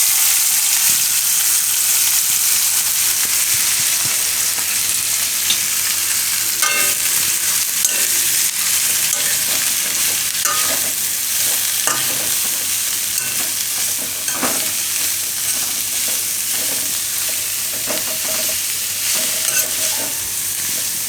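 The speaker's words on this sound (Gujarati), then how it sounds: "તો આમાં આપણે હવે કોબી નાખી દેવું." Shredded cabbage frying in a pan with cumin and asafoetida for a Gujarati cabbage paratha filling, a loud steady sizzle with occasional clicks and scrapes of stirring, close up, with no voices throughout.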